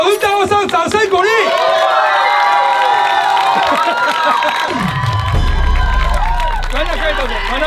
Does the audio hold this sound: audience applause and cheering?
yes